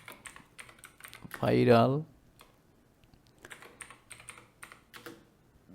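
Typing on a computer keyboard, a run of light clicking keystrokes sitting under a man's speech and surrounding a short loud burst of voice.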